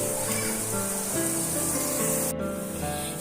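Garlic, black cumin seeds and dried red chillies fry in hot oil in a pan, a steady dense sizzle that runs continuously throughout, with no talk.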